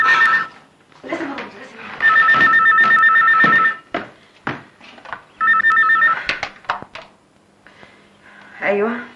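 A telephone bell rings in two long bursts, loud and close, with speech and thumps between the rings, in an Egyptian feature film.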